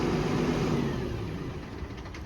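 A 2011 Ford F750 service truck's Cummins 6.7 diesel settles back toward idle, a steady low rumble that eases slightly in loudness, heard close with no talking.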